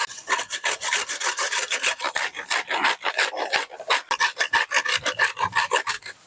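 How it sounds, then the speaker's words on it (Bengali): A bitter gourd is rubbed hard against a kitchen grater while making a village-style curry. The sound is a steady run of quick, close, rasping scrapes, stroke after stroke, with no voices. "এবার আমি একটা গ্রেটার নিয়েছি, গ্রেটারের সাহায্যে উচ্ছেটা ভালোভাবে ঘষে নেব।"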